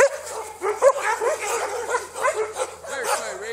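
Several Elkhound dogs bark, yip and whimper excitedly close by in a steady overlapping stream, a person's voice mixing in with them.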